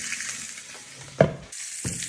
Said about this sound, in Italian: mettiamo la nostra fiorentina e la facciamo cuocere 5 minuti per lato